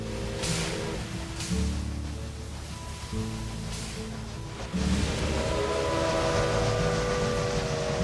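A freight train runs in the railway video game Railway Empire 2, with a steady rolling rumble, tonal horn-like chords and whistle blasts, moderately loud and without talk.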